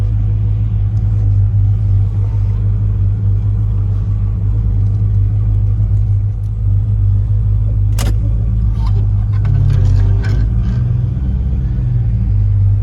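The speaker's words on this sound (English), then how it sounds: "Let's take a little drive around this place." Interior of a car driving slowly around a wigwam motel campground in Cave City, Kentucky, a loud, steady low engine and road rumble with a brief bump or click midway and no talking.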